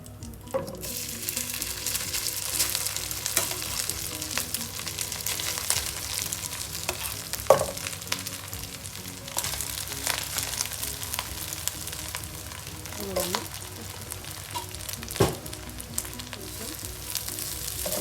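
Rice mixture with chicken being stirred and fried in a pan for a shawarma rice dish, a steady close sizzle broken by periodic clacks and scrapes of a spoon against the pan, with no voices.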